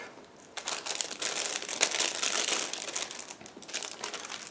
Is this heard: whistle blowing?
no